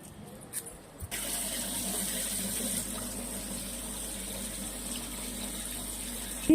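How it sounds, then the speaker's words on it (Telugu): Sliced bitter gourds washed under a running kitchen tap, a steady stream of water splashing into a sink after a few brief clicks at the start, quiet and close. "కోసి కడుగుతున్నాను."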